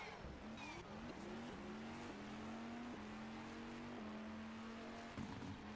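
A GTE race car in rFactor 2 circles Suzuka, its engine a steady, slightly wavering drone with faint pops and a sharper burst near the end. No voices are present.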